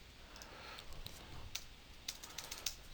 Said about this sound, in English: I'm going to hit my backspace on my keyboard in hopes of getting that fixed